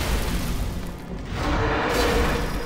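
Explosion in the video game Demon's Souls, a loud broadband boom with a rumbling roar that dips briefly and then swells again across the whole moment.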